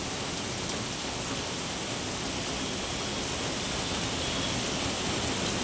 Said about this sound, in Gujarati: કેવો વરસાદ પડે જોઈ લે.